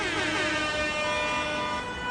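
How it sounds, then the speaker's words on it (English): A loud air horn blares as a celebratory salute after a basketball win, one continuous sustained blast lasting about two seconds. "This is a salute, air horns."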